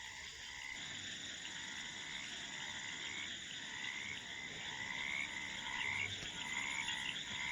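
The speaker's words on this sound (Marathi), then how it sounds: "पाण्यात बेडकाचा आवाज इथले बघा" Frogs croak in water at night by a riverside village in Sangli, a dense, continuous chorus of rhythmic calls at moderate distance with no voices.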